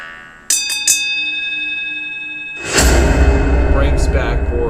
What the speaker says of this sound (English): So we gotta cut the end of the bell sound down.